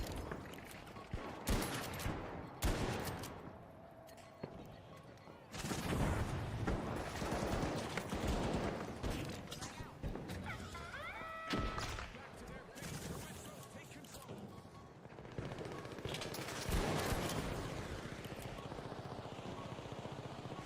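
Gunfire in a shooter video game, bursts of sharp cracks and rattling volleys scattered through the clip at moderate loudness, with a person talking over parts of it.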